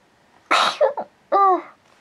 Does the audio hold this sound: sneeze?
yes